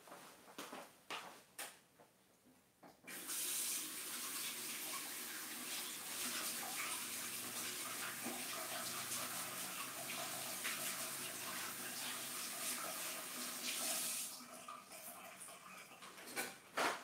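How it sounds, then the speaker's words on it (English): A tap runs steadily into a sink for about eleven seconds while hands are washed, a close, even rush of water framed by quieter bumps before and after. "I'm gonna wash my hands"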